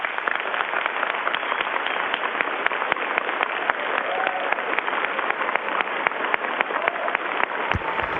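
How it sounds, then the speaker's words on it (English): Students at Eastern Guilford High School applaud in a steady, dense wash of clapping that fills the whole stretch, loud and continuous with many overlapping hands. "Students, please show them a round of applause."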